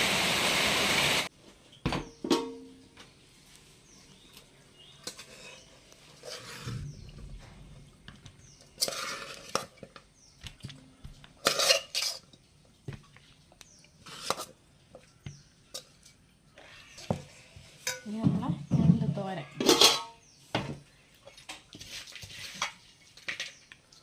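Clinking dishes and splashing water come in scattered bursts, with quieter gaps between scrubbing and rinsing noises.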